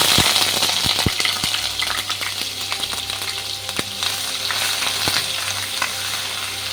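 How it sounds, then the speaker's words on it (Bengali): Onion paste fries with whole spices such as cloves in a pan, giving a loud continuous sizzle and hiss with a few sharp metallic clicks of a spoon stirring against the pan. "এবার আমি মাঝারি সাইজের পেঁয়াজ বাটা দিয়ে দিচ্ছি"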